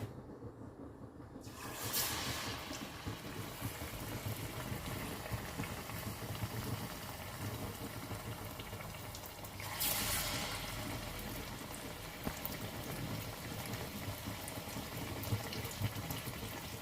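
Banana fritters (pazham pori) frying in hot oil give a steady, continuous sizzle and bubbling hiss at moderate level, with brief louder surges as batter drops in, and no talking.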